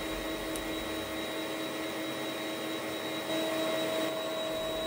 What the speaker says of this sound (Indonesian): Nah, ini kita kocok dengan kecepatan tinggi sampai kental berjejak. Ini aku mixernya sekitar 10 menit.